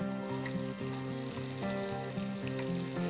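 Steady sizzling of two finely chopped onions frying in a pan with ginger and garlic, a constant crackling hiss with no talking.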